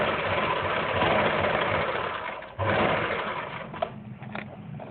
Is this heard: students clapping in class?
no